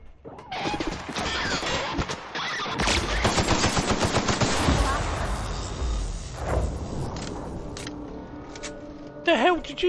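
Rapid video game gunfire with bursts and crashes in a sci-fi shooter, loud and dense for several seconds before fading, with a voice speaking near the end.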